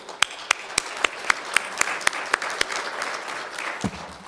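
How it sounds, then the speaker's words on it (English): An audience at an aviation symposium session applauds presenters and speakers: a few sharp, evenly spaced nearby claps ring out over a broader wash of clapping, which then softens and trails off. "A big round of applause for them."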